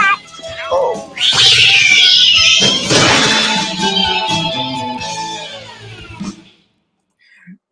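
A cat caterwauls in a comedy movie trailer, a long, loud, wavering yowl running several seconds alongside crashing and shouting voices, then fading out before a faint final squeak.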